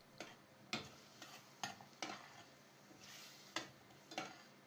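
Diced potatoes and softened onions fry in a pot as the base for a carrot soup, with a steady soft sizzle broken by several sharp stirring scrapes and clicks of a utensil, close and fairly quiet.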